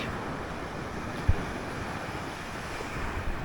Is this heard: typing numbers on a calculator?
no